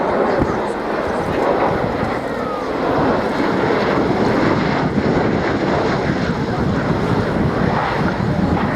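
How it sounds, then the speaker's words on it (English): A CV-22B Osprey tiltrotor makes a final pass at an airshow, a steady broad roar with heavy wind buffeting on the microphone throughout. "So there, the final pass by the CD-22B Osprey"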